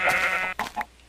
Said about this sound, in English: Go away, sheep.